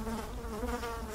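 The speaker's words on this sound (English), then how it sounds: "there's bees everywhere" Dense, steady swarm of bees buzzing loudly in the video game Teardown, a continuous droning hum with no pauses and no voices.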